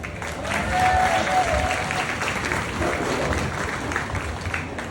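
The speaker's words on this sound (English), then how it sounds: "let's go ahead and give her a big round of applause" A crowd at a youth livestock beef breeding show gives a loud, sustained round of applause for an exhibitor, steady and full through five seconds, with a voice briefly audible early on.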